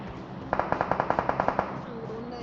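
Rapid automatic gunfire in a first-person shooter game, about a dozen evenly spaced shots in a quick burst, loud and close, with faint game ambience and a little speech around it.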